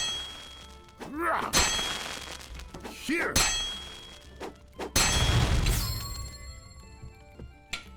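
Hammer blows ring out on metal at a forge in a medieval blacksmith simulator game, a few spaced clanging strikes with bright pinging tails, followed by a denser metallic clatter before it fades.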